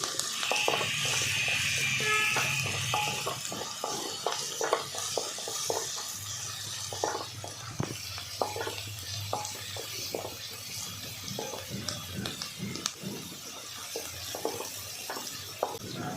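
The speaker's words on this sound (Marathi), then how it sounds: "कांदा लाल परतून घेणार आहे तूप ऑप्शनल आहे" Onion fries in ghee or oil in a pan until browned: a faint sizzle at first, then soft, scattered scraping and clicking from stirring over a quiet background hiss.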